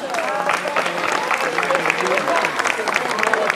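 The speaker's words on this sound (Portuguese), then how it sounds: "Também eles merecem uma grande salva de palmas." Steady applause from a crowd at a Portuguese town festival ceremony, a dense patter of clapping with voices mixed in throughout.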